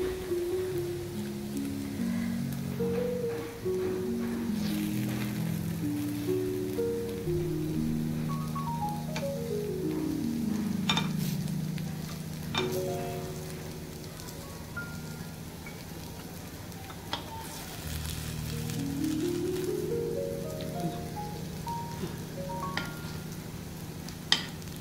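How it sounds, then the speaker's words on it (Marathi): Fasting kachori fries in hot oil in a pan, a steady soft sizzle with occasional clinks and scrapes as a spoon turns them, with music playing over it throughout. "असे उलट पलट करत आपल्याला 10 मिनिटं छान भाजून घ्यायचे."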